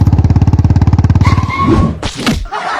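A cartoon Bullet motorcycle thumps along in a steady rapid low putter for about a second and a half, loud and close, then gives way to whooshes and a couple of heavy thuds.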